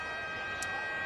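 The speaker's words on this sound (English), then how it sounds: "Wayne Bennett with the siren sounding, heading for the sheds." A stadium siren sounds at a 1996 Brisbane Broncos versus Canberra Raiders rugby league match, a steady sustained tone held over crowd noise for the whole short stretch.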